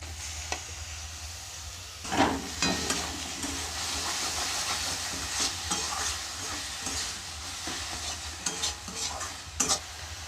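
Masala with chopped tomatoes frying in a pan and stirred, giving a continuous close sizzle with irregular scraping and clattering strokes throughout, no voices.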